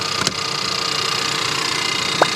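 A 2020 Ford Edge Titanium's 2-liter engine idles under the open hood, a steady, even hum at moderate level with a faint mechanical ticking and one brief chirp near the end.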